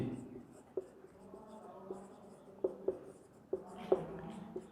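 Chalk or marker writing on a board during a physics lecture on electric capacitance, heard as a few faint scratchy taps and strokes spread across the clip against a quiet room.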